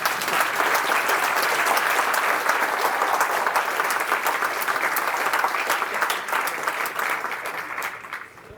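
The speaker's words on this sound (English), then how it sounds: "Please clap." Attendees of a tech conference talk on the Aurae distributed runtime give loud, dense applause at its close. The clapping holds steady for about seven seconds, then tapers off near the end.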